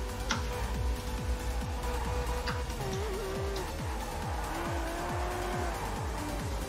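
In the Test Drive Unlimited racing game, a car drifts with its engine revving in rapid repeated surges while the tires squeal in sustained wavering screeches across the whole stretch.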